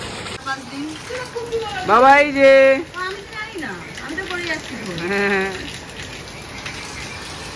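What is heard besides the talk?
rain falling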